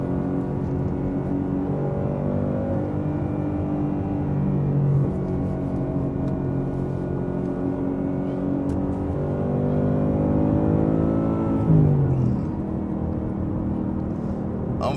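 A Ford Mustang Mach 1 engine revs high in traffic, a loud sustained tone that climbs and falls in pitch, heard up close from inside the car.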